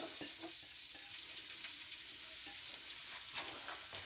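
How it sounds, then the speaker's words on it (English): Onions sizzle and crackle steadily in a hot pan, with a soft scrape or two of stirring, fairly quiet and close. "Throw the onions right in there."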